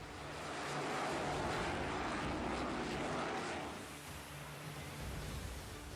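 An F-35 fighter jet flying, a steady broadband roar that swells to a peak and then eases slightly, sustained and fairly loud throughout with no voices.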